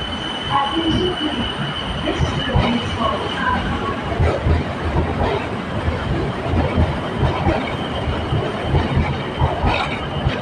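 A BTS Skytrain Silom Line train pulling out of an elevated station platform in Bangkok, a sustained rumble with wheel squeal and rail noise, plus a voice talking over it.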